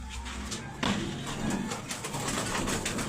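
Pigeons coo in a rooftop loft, soft low calls close by, repeating under a steady hum of background noise.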